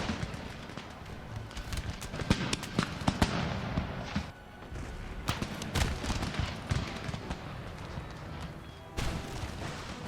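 Musket volleys in Empire Total War at the siege of Paris: repeated crackling bursts of gunfire, some near and sharp, others distant, with rumbling battle noise between and a brief lull midway.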